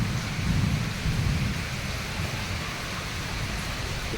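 Heavy rain pours over a village while low thunder rumbles through it, a deep rolling roar beneath a constant hiss of rainfall, loud and unbroken with no voices.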